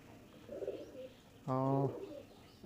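Pigeons on a small pigeon farm coo softly nearby, a low murmuring call followed by one louder, drawn-out coo, with quiet background between.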